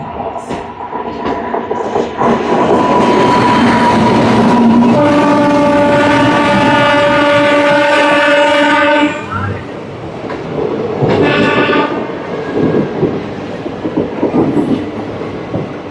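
A MEMU train on the Rajahmundry to Vijayawada run rumbles loudly along the track, then sounds a long, sustained horn blast that fades into continued rolling noise and a shorter second horn note.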